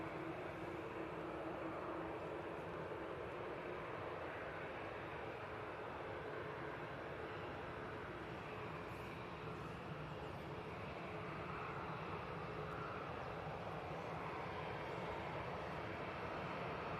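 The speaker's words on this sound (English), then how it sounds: "And that's A321neo just touching down" An Airbus A321neo touches down at Manchester Airport, a faint, distant steady engine roar with broadband rumble blending into background noise throughout.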